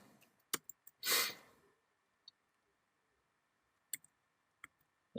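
A computer keyboard clicks in a few sparse, isolated keystrokes while the nmap command is typed. One brief soft rustle or exhale sounds near the start, and the room is otherwise quiet.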